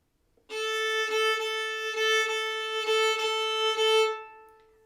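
Violin playing the fiddle tune Red Haired Boy with swung eighth notes starting on a down bow, a short bowed phrase of several connected notes, clear and close, alone.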